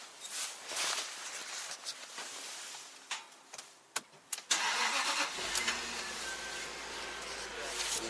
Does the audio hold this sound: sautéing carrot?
no